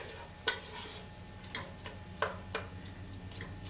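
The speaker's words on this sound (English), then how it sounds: "What we're going to do now is just saute this for about 2 to 3 minutes" Onions and garlic sautéing in a pan, a soft, quiet sizzle running underneath a few sharp spoon taps against the pan spaced out across the stretch.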